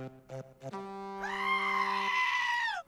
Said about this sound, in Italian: Ma perché ogni volta che sono il corno lei urla?